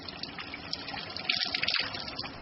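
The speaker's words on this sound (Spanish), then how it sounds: "¿Sabes de dónde viene el agua que chorrea por el grifo que tienes en tu casa?" A household faucet pours water steadily and close by, with a fuller gush swelling briefly near the middle before settling back to a continuous run.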